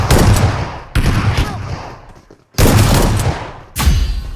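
Three loud bursts of gunfire come from a shooting video game. Each bursts sharply and then decays, with short gaps between them, and no voices are heard over them.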